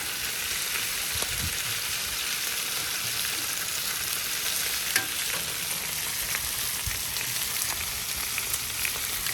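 New York strip steaks sear on a Blackstone griddle outdoors, giving a steady, dense sizzle that never lets up, with a few faint ticks and pops over it.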